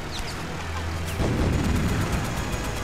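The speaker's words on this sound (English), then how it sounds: "Some little buggers in there shooting their machine guns, their anti-aircraft guns up at us" Machine-gun and anti-aircraft fire from ground positions in the Wii game Blazing Angels, a dense stream of rapid shots and thumping flak under a steady engine roar, loud and constant.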